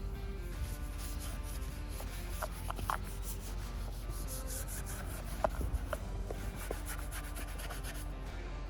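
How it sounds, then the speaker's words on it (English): A stiff brush scrubs the top of a headstone base in continuous, gritty back-and-forth strokes, steady and fairly quiet, with occasional small taps. "just make sure we scrub everything down"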